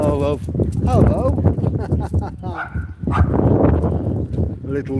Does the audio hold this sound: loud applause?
no